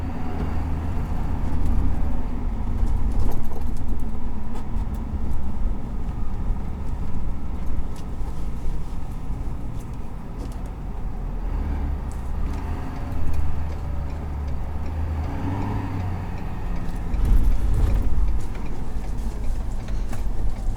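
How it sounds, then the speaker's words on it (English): The Powerstroke diesel engine of a 2021 Ford F-350 STX running, a steady loud low rumble heard from inside the truck on the move, with gentle swells in level and no talking. "For all the diesels, Powerstroke might sound the best."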